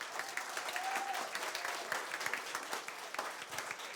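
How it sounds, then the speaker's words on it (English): A crowd claps steadily with dense, sustained applause, loud and even throughout, with no voices standing out. "Will you give a big round of applause for Green MP Denise Roche?"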